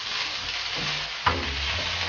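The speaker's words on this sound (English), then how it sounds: "I'm going to cook the meatballs to an extent. Yeah. So I'm cooking the meatballs to an extent where they're just nice." Meatballs frying in olive oil in a non-stick pan, a continuous close sizzle with a single soft knock or shift partway through.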